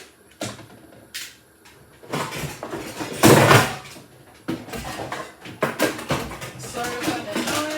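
Kitchen cupboard doors open and shut as dried containers are put away, with scattered knocks, a loud clattering burst of dishes and irregular bumps, close by.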